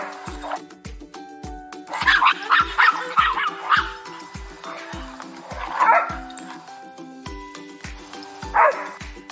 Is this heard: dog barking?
yes